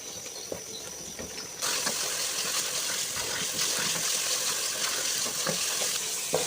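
Kaleji, goat liver in masala, sizzles and fries steadily in a pan over a medium flame, a dense continuous crackle with small pops that grows louder partway through, with no talking.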